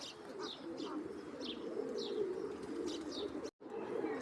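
Pigeons coo steadily in short repeated calls over a dense, constant bed of bird chatter, with faint chirps and a brief dropout near the end.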